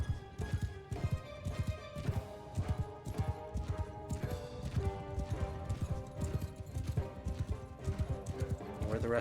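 Horse hooves pounding at a gallop in the samurai video game Shokuho, a fast, regular beat near and prominent for several seconds, with tonal neighing and someone speaking at times beneath it.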